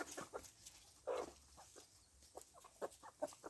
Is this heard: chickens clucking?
yes